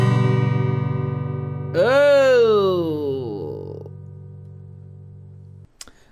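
An acoustic guitar chord rings out sour and out of tune, then a voice groans over it before the strings are muted with a click.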